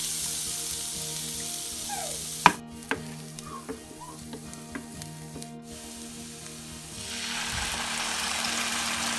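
Barbecue sauce sizzles steadily in a pan while pizza sauce is made, with a soft continuous frying hiss and a few light stirring clicks, no voices.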